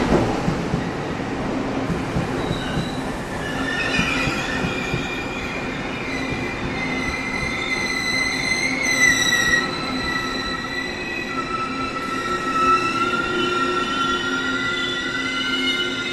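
A PP Tze-Chiang express train pulls into Ruifang station in Taiwan, wheels rumbling and long high-pitched brake and wheel squeals rising and fading over several seconds as it slows, no talking.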